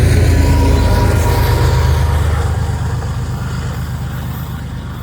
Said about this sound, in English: That DPU is cranking as they go up the hill into Livingston